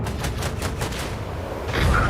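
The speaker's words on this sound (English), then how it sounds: "Let's use the new macro cannons." Macro cannons firing in the Warhammer 40K Rogue Trader video game: a rapid volley of booming shots in quick rhythmic succession, loud and close, ending with a heavier rumbling impact.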